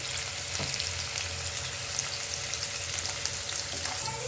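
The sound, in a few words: onions frying in a pan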